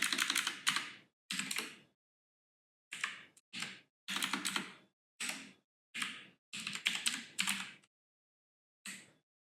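Someone types a password on a computer keyboard in quick bursts of close, crisp key clicks separated by short silent pauses, with no talking.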